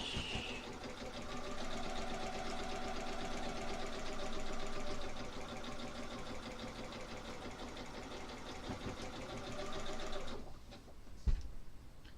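A sewing machine runs steadily, stitching a quilt with a continuous close whirring hum and rapid needle rhythm for about ten seconds before stopping, followed by a brief knock and quiet handling.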